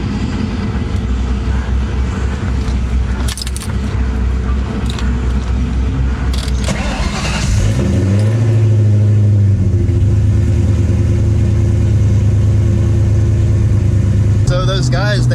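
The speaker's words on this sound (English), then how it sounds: "We gotta go ahead and start my car now." A Whipple-supercharged car engine cold starts, turning over and catching, then settles into a steady low idle rumble, loud and close, with talking heard before it starts.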